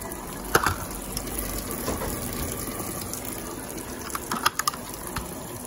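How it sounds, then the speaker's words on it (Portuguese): Brastemp Ative BWL11 washing machine drawing in water for its first rinse, a steady running rush of water filling the drum, with a few faint clicks and knocks on top. "Entrada da água para o primeiro enxágue."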